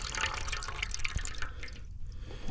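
Water dripping and trickling steadily from a homemade survival water filter outdoors, a continuous close wet patter with small splashes throughout, no talking.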